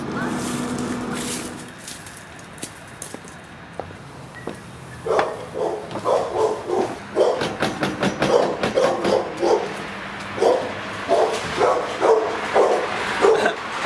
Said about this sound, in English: Doesn't look like a very friendly dog.